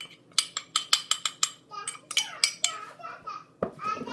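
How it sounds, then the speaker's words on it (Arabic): A spoon clinks and scrapes against a bowl in quick rhythmic strokes as chocolate is mixed into flour, followed by softer stirring, with faint children's voices in the background. "نخلط داك الشكلاط مع الطحين"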